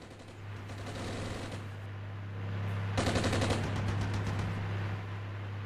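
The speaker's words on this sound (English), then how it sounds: "There's a lot of MG fire there." Machine gun fire in the war game Armored Brigade, sustained rattling bursts at moderate distance over a steady low engine hum, with a louder burst midway.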